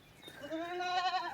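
A goat on a family farm bleats once, a short wavering cry that rises and holds, fairly close with quiet surroundings.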